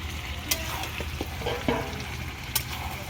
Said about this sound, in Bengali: মাংসটা কষানো হয়ে আসছে, এবার আলুটা দিয়ে দিলাম